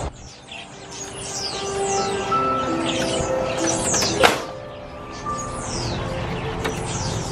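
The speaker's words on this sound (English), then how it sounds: "This tree sounds like it's alive with birds." Many birds chirp and tweet in a tree at an aviary, a dense chorus of repeated high calls with some cooing, close and continuous, with one sharp burst near the middle.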